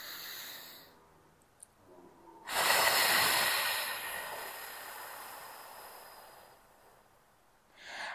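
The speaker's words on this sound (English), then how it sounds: "you're going to exhale through your mouth through pursed lips" A pursed-lip exhale through the mouth during a beginner Pilates breathing exercise at home: one long, steady breathy hiss, close and fairly loud, alone with no talking, trailing off slowly before a fresh breath begins.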